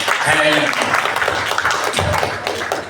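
A crowd claps and cheers at a Gus Dur memorial gathering held inside a mosque, the applause dense and steady throughout, with voices mixed into the noise.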